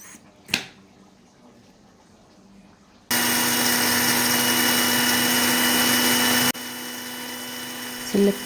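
An electric blender grinds toasted spices for a rendang paste, a loud steady whirring motor that starts abruptly after a quiet moment, cuts off, then resumes at a slightly lower pitch.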